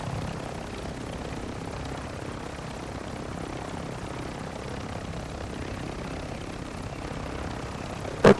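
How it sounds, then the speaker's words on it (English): In the video game Call of Duty: Modern Warfare II, a helicopter's rotor thrum drones steadily overhead for several seconds, loud and continuous, ending with a brief sharp click. "The helicopter's above trying to snipe Buddy"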